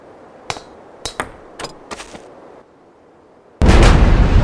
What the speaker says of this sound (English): Well, that's a huge explosion.